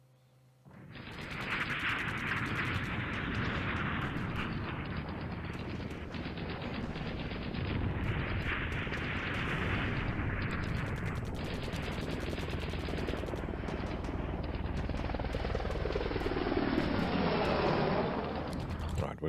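War sound samples from a metal song: bursts of rapid machine-gun fire and heavy gunfire, then a rising swoosh toward the end, loud and continuous throughout.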